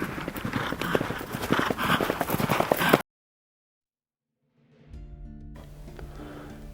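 Hooves of a horse ridden during a mounted fencing training session, a dense stretch of close clip-clop for about three seconds, then a gap of silence before a lower, steadier rumbling outdoor sound.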